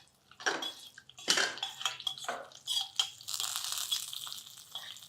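Chopped cashews, almonds and charoli nuts fry in hot fat in a pan for a sweet dish, giving bursts of crackling sizzle with clinks and stirring, close and fairly loud, with no talk.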